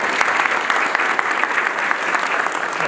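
A church audience breaks into sustained, dense applause for a choir at a Feast of the Assumption service, steady clapping filling the whole stretch with no voices on top.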